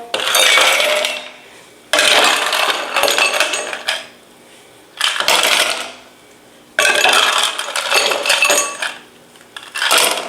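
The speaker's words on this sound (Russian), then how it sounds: "Наполняем шейкер кубиками льда." Ice cubes tumble into a cocktail shaker in several separate bursts of clattering, rattling impacts, close and fairly loud, with brief quiet gaps between scoops.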